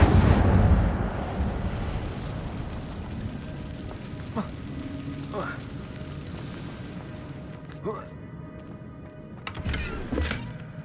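Incendio fire spell cast in the Hogwarts Legacy video game: a loud, roaring burst of flame at the start that fades into a low rumble, followed by a few quieter swishing magical sweeps.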